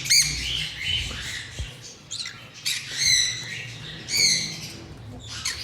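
A male sun conure, a breeder bird, gives repeated harsh squawking calls in short bursts, close and fairly loud, with a low background rumble beneath.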